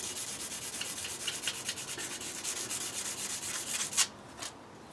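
Sandpaper rubs rust off a steel knife blade in quick, even back-and-forth strokes, close and moderately loud, ending with a sharp scrape and a brief pause.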